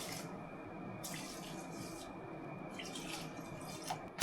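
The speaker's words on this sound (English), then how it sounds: "3 portions into the clay pot, water added." Water pours into a clay pot holding three portions of rice in a home kitchen, heard as faint splashing and trickling bursts over a quiet background.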